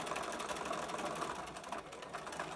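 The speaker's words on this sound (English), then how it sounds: "here with my 6mm seam allowance, backstitch to the corner, down the diagonal" A sewing machine stitching a fabric face mask with a 6 mm seam allowance: a continuous, fast mechanical whirr with rapid needle ticking, steady and close throughout.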